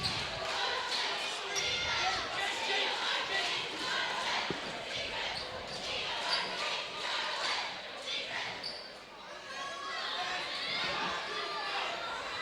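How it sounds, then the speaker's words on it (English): High school basketball crowd in a gym at a Port Huron versus Marysville game, a loud, sustained murmur of disapproving voices and chatter after a referee's call, with occasional ball bounces and sneaker noise. "Port Huron's crowd doesn't seem to be liking that call"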